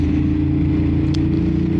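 Ducati Monster 950 Plus motorcycle exhaust, a steady deep low rumble close by with a brief higher flutter midway, no talk over it.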